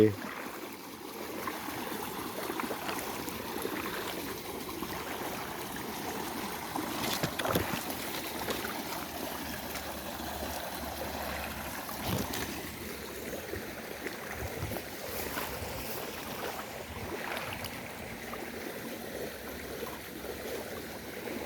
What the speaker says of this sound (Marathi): शेतातनं हे पाणी असं चाललंय